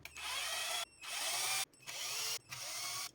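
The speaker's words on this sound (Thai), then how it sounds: "เดี๋ยวผมจะทำการมาร์กแล้วก็เจาะไว้นะครับเพื่อนๆเพื่อจะไม่ให้เนื้อไม้แตกนะครับ" A power drill bores holes in wood for a subwoofer box, three long whining bursts with short pauses between them, loud and close.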